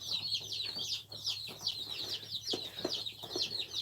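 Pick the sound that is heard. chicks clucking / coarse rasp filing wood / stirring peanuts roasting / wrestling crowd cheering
chicks clucking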